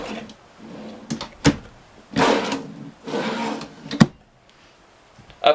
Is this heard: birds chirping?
no